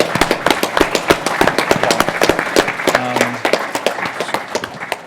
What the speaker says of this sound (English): Thanks, a huge round of applause to them for getting it together.